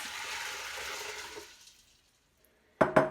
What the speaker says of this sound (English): we're gonna put 8 cups of filtered water on top for our first cook